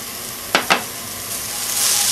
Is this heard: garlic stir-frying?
yes